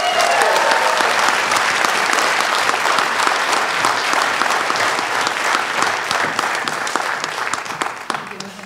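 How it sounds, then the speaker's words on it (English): A large audience applauds at a high school graduation ceremony, sustained dense clapping that holds loud for several seconds and then begins to thin and fade toward the end. "Please join me in giving a round of applause for Ms. Aubrey Tolles."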